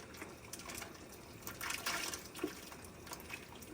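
Canned green beans and potatoes with their liquid are tipped into a large cooking pot, a soft irregular glugging and splashing that swells briefly in the middle, with no talk.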